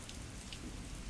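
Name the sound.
rain falling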